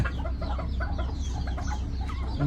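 Bantam chickens cluck repeatedly in short, overlapping calls over a steady low rumble, with several birds close by.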